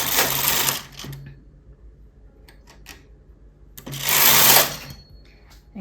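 A domestic knitting machine carriage is pushed across the needle bed twice, making two loud rattling, whirring passes separated by a quiet pause with faint clicks.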